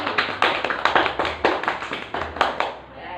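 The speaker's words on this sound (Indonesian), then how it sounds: "Kita beri aplaus kepada Mbak Fitri" Classroom applause for a student, a short burst of sharp, uneven hand claps from a small group that tapers off after about three seconds.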